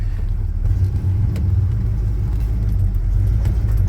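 A 1966 Chevy C10 pickup truck engine runs at a steady low idle or slow crawl, a loud continuous rumble heard from inside the cab with no talking.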